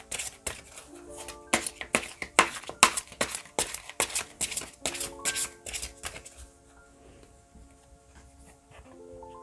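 Tarot cards riffled and shuffled in quick crisp bursts for several seconds, then a few softer slides as cards are drawn, with a gentle melodic music bed playing beneath and no voices.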